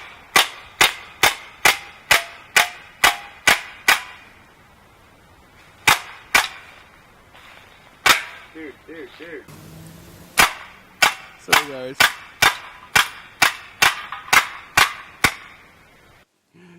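Rapid bursts of sharp, snapping shots from an Umarex Steel Force full-auto BB air rifle, close and loud, with a short pause between strings of shots and a brief spoken word.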